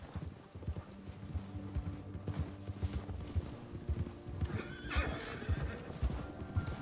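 A horse ridden at a steady clip in Red Dead Redemption 2, its hooves clopping rhythmically over continuous ambient game sound, with a loud whinny and snort rising about two-thirds of the way through.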